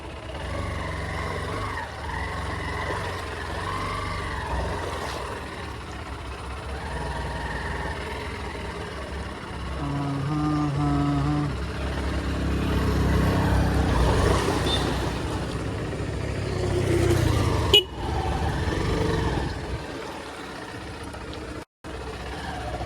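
A vehicle's engine rumbles steadily while it wades through deep flood water from heavy rain, the silencer close to going under, with churning water sloshing and surging around it; the drone swells midway and continues at moderate loudness.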